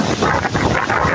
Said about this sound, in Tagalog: Ang hangin po parang madadala ko.